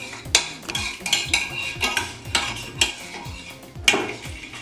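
Shrimp stock cube and lemon juice are worked into a paste in a bowl, giving repeated rhythmic scraping and clinking strokes of a utensil, close and fairly loud, with no talking.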